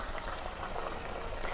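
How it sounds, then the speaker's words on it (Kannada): Pre-boiled water poured into a pan of fried onion tempering for upma, giving a steady bubbling, hissing boil that runs evenly and fairly softly throughout, with a faint brief clink near the end. "ಈ ಸ್ಟೇಜಲ್ಲಿ ಮೊದಲೇ ಕುದಿಸಿ ಇಟ್ಕೊಂಡಿರೋ ನೀರನ್ನು ಸೇರಿಸ್ತಾ ಇದ್ದೀನಿ"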